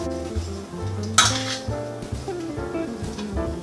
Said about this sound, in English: And these have to be stirred a lot.